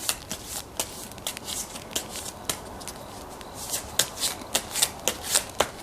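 Tarot cards being shuffled up close, a run of crisp riffling bursts that speed into a quick steady rhythm toward the end, with no talk over them.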